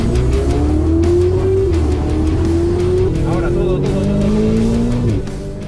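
A race car screams at full throttle in Gran Turismo 7, its loud engine note climbing steadily through the gears with brief tire squeal, while an excited commentator talks over it.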